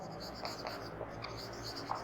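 Soft, continuous scratching of a formula being written by hand, close and faint, with small taps as the strokes change.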